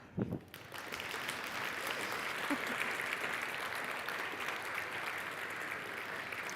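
An audience at the Finnish Game Awards 2023 ceremony breaks into sustained applause after a brief pause, with dense, even clapping holding steady to the end.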